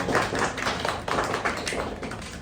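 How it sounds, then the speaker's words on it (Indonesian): Audience applause at a student chemistry expo presentation, a dense and continuous patter of many hands clapping at once, fairly loud and steady, with no voices over it. "Silakan beri tepuk tangan untuk semua."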